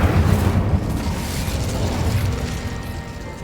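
A fire spell erupts in the video game Hogwarts Legacy with a loud rumbling whoosh of flame, crackling and rattling for a few seconds before easing slightly, with no voices over it.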